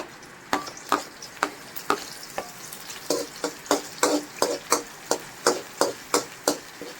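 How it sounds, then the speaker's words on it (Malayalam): Green chillies stirred around a frying pan while cooking masala dosa filling: a steady run of sharp scraping, stirring strokes roughly every half second over a faint background sizzle, close and fairly loud, with no talk. "നമുക്ക് പച്ചമുളക് ഇട്ട് കൊടുക്കാം അതിനകത്തോട്ട് പച്ചമുളകും"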